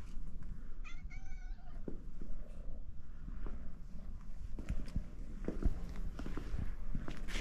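Domestic cat meowing in a couple of short calls near the start, followed by soft purring and shuffling movement against steady low background noise in a garage.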